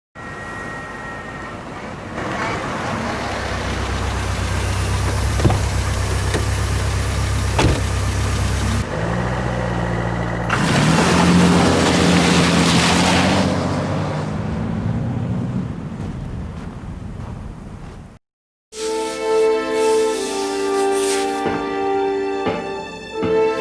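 Car driving in Tomb Raider: The Angel of Darkness, a loud steady engine drone with shifting pitch, a brief cut to silence near the end and then a tonal, humming engine passage; no talking.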